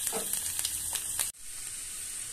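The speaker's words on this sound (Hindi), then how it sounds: "तड़का हमारा चटक चुका है" Green chili, ginger, garlic and cumin seeds crackle and sizzle steadily in hot oil for a tempering, close and loud, then the sizzle shifts suddenly to a softer, smoother hiss.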